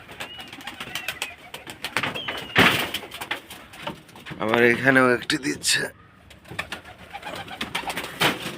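Domestic pigeons, kept free-roaming with some sitting on eggs, coo intermittently near someone speaking, with a louder burst of bird calling midway and a knock like a door.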